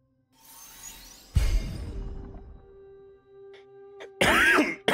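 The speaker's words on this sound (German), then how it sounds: "Verzeihen Sie die Husterei." A man coughs and clears his throat, a harsh burst followed by a rasping throat clear, close and loud, with a quieter low hum in between.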